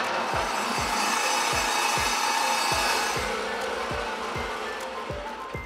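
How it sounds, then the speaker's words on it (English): A table saw sections a single clam shell valve from an archaeological midden, the blade grinding steadily with a rough, rhythmic rasp that repeats about every half second, close and fairly loud, easing off slightly toward the end. "We take just one of the valves from the clam and we section it on a table saw."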